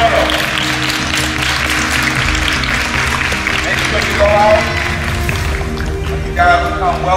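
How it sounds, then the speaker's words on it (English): Loud crowd applause at a youth basketball camp, a thick continuous clatter of clapping mixed with voices and crowd bustle, with a rhythmic thumping underneath and a sharper burst of sound near the end. "Give a big warm applause for Warren Henry Auto."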